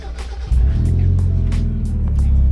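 A Mazda Miata, just back from a power steering repair, pulls away with a steady engine drone that jumps up loud after a brief idle, heard from inside the car.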